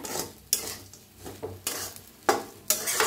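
Sabudana khichdi with coarsely crushed peanuts being stirred in a pan, with repeated scraping strokes of a spoon against the metal over a soft sizzle, close and alone, no talking.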